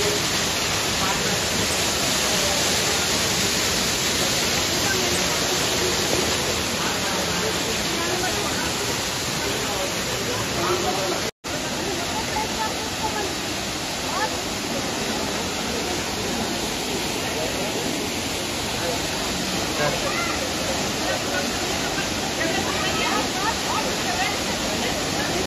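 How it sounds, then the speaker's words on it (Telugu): Akasha Ganga, a natural waterfall fed by water from the Tirumala hills, roars as a steady, dense rush of falling water that stays loud and unbroken throughout, apart from one brief dropout partway through. "డౌన్లో వాటర్ ఫాల్స్ కనిపిస్తున్నాయి కదా, ఇదే ఆకాశగంగా"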